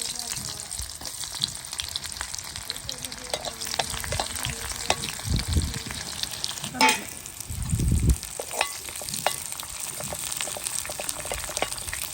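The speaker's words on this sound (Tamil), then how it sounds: "கடுகு வெடிச்சு வெங்காயம்" Mustard seeds crackle and pop as onion fries in hot oil for a tempering, a steady close sizzle with sharp spattering bursts throughout.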